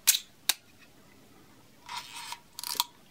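A Braun Paxette Super BL II analog camera being handled close up, with a couple of sharp mechanical clicks from its shutter release followed by two short rasping mechanical sounds, with no talking.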